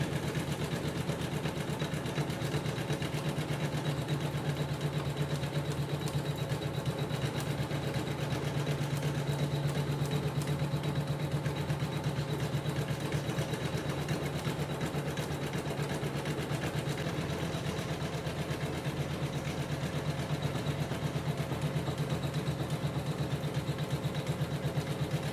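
A Janome Memorycraft 9900 computerized sewing machine stitching a quilt square runs steadily for a long stretch, a constant close mechanical hum and rapid needle whirr with no voices.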